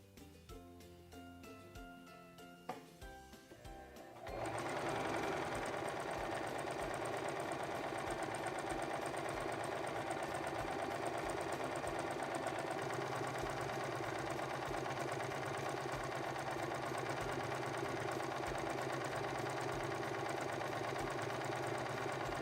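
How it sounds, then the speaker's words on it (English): A Singer Promise 1408 sewing machine stitches a decorative scallop, with a few quiet clicks at first and then a steady, close, continuous motor hum and needle rattle that runs to the end. "Now let's stitch out our decorative scallop."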